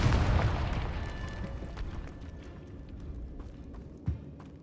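A Confringo spell explodes in the video game Hogwarts Legacy with a loud, broad burst that fades into a long, rumbling decay, followed by a faint small thud.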